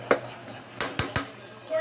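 A spoon scrapes and clinks in a pot of beef caldereta being stirred with liver spread, a few sharp close knocks against a quiet background.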